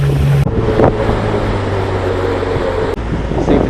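Pontoon boat engine running at speed on open water, a steady loud drone with wind buffeting the microphone, a brief voice heard at the start.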